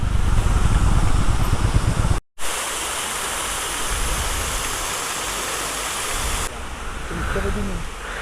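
Valanjanganam waterfall near Kuttikkanam, Kerala, roars continuously, a dense, loud rush of falling water that briefly cuts out and then resumes.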